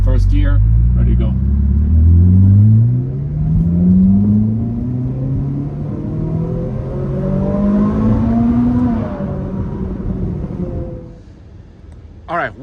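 A Ferrari 458 Spider pulls away in first gear, its engine rising in pitch as it accelerates, loud and close, then settling and fading to a lower hum toward the end.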